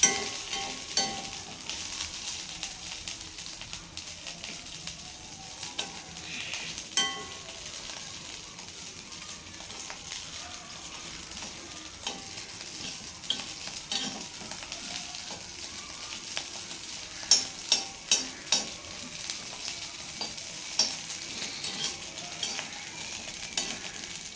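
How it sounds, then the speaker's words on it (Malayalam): Dry, unwashed rice roasts in a pan with a steady, close crackling sizzle, and a few sharper pops stand out near the end. "അരി ഒരുവിധം പൊട്ടിക്കൊണ്ടിരിക്കുകയാണ് അരി വറുത്ത് മൂത്ത് കഴിയുമ്പോൾ ബാക്കി ചേരുവരെ നമുക്ക് വറുക്കാം"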